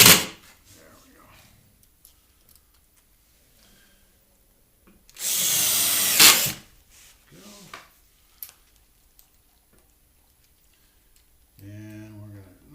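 Power drill driving screws to mount the bottom of a base cabinet, one loud whirring burst of about a second amid quiet handling knocks, followed by a brief voice near the end.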